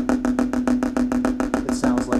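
Alternating crush strokes with drumsticks on a practice pad make a rapid, even train of buzzy strokes, close and steady, with no talking.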